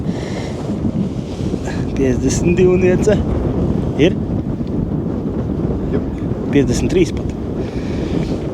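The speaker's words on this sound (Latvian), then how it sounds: "Vējš te pūš viss." Steady wind buffets the microphone outdoors by a lake during a team competition on the Lielupe, a rough continuous rush that persists while several people talk throughout.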